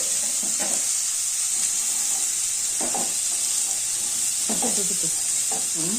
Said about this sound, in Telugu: శనగలు వేసి ఆ తడి వేయే వరకు వేయించుకోవాలండి